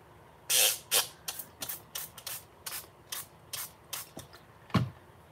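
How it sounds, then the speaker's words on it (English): A spray bottle pumped repeatedly, about a dozen short hissing spritzes in an uneven rhythm, close and fairly quiet. "Spray some water."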